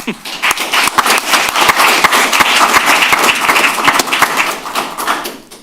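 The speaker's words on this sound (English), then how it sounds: "let's give them another round of applause" A modest crowd at a city council meeting applauds for several seconds, with individual sharp hand claps standing out distinctly against a light murmur of voices.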